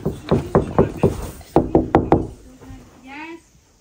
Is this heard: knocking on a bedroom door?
yes